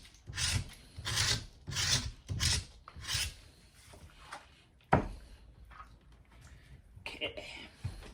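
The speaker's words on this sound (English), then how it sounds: "Scraping like this, make sure there's no plaster overlapping, and it exposes the seam between the two halves." A tool scrapes along the seam of a two-part plaster mold in short rasping strokes, steady at first and then more scattered, with one sharp knock partway through, fairly quiet and close.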